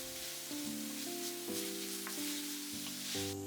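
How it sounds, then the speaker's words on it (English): Ground beef stir-frying in a pan for potato croquettes gives a quiet, steady sizzle with occasional light spatula clicks, close and unaccompanied by speech. "I stir fry them until the meat is cooked"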